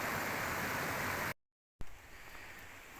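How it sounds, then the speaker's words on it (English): A river in a forest valley rushes in a steady broadband roar of flowing water, close and constant. It cuts to silence briefly, then returns softer. "I'll just let you have a look back up the river."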